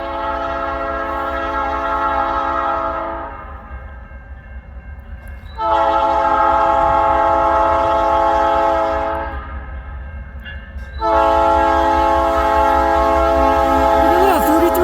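CN freight train 3319, running as K773 with a Nathan P3 horn, arrives at Ladysmith, Wisconsin: three long, loud chorded horn blasts, the last two close together, over a constant deep locomotive rumble, with no talking.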